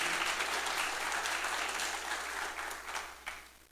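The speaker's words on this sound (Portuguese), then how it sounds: "dá uma salva de palmas" A church congregation at an evening worship service breaks into dense, steady applause from many hands, filling the room evenly and tapering slightly toward the end, with no talk over it.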